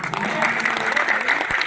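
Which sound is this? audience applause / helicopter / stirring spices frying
audience applause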